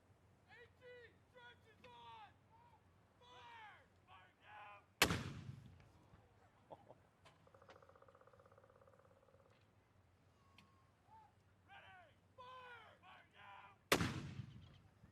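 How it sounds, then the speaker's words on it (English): A black powder firing demonstration from a historic armoured vehicle, a Staghound of the Royal Canadian Dragoons historical vehicle troop, gives two sharp, loud blasts about nine seconds apart, with birdsong and quiet crowd sounds between them. "They're going to do a fire demonstration, black powder."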